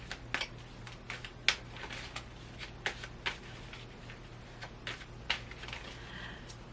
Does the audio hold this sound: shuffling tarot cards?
yes